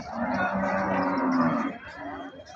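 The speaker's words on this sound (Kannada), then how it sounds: "ಇಲ್ಲಿ ಕಲ್ಗಡ್ಗಿ ಪೇಟೆಯಲ್ಲಿ ಈ ಥರ ಹಸುಗಳೆಲ್ಲ ಬಂದವು ನೋಡ್ರಿ" A cow lets out a long, loud moo close by at a weekly cattle market in Kalghatgi, lasting over a second. It then fades into a murmur of background noise.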